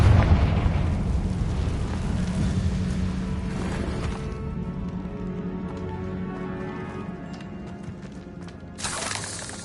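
In Hogwarts Legacy, a Confringo blasting spell erupts in a loud, close explosion whose rumble fades over several seconds, followed by a brief sharp burst near the end.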